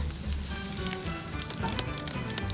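Butter sizzles steadily in a frying pan as carrot and onion cook for stuffed trout, a dense continuous crackle with scattered pops, close up and moderately loud, with no voices.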